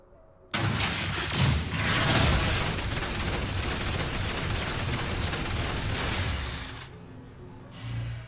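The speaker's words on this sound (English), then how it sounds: "So it's a machine gun." Urgot's machine gun ability firing in a video game: a dense, sustained burst of rapid gunfire that starts abruptly, holds loud and steady for about six seconds, then cuts off, followed by one brief short burst.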